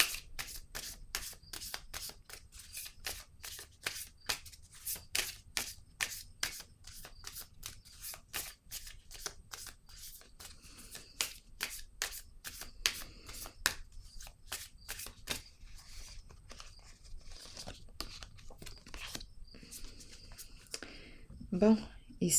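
A card deck is shuffled by hand before a card is drawn, giving quick, crisp, regular flicks close to the listener, with a short voice coming in near the end.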